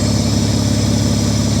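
Mitsubishi Diamante car engine with 230,000 miles idling after a tune-up: a steady, even, fairly quiet running hum from close by, with no talking.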